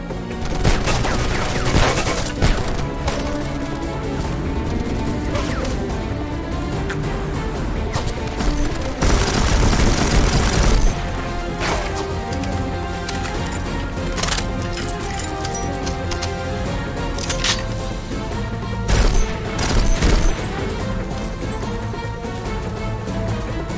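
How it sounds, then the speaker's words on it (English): Sustained machine gun fire in the shooter Conflict: Denied Ops, dense continuous bursts and sharp cracks over a loud battle din at a sawmill, with brief shouted voices mixed in. "Machine gun!"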